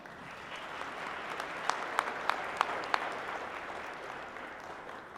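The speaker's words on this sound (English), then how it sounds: "Let's give our finalists a round of applause" Audience applause at a teacher of the year gala for the finalists, steady crowd clapping with a few sharp, close claps standing out near the middle.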